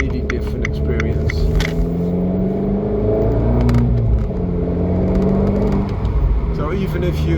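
An Abarth 595c with a Record Monza stage 2 exhaust rumbles and revs up close in a low, throaty, crackling drone, with someone talking over it.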